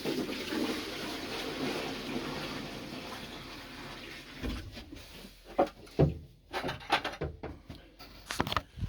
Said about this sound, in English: I'll fill our water